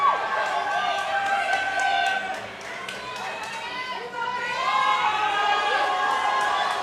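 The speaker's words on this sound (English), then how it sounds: "The crowd's going nuts, man. It's getting loud in here." Crowd at a CrossFit-style fitness competition in Boston roaring and cheering continuously across the arena, loud and sustained, with an announcer's voice talking over the din.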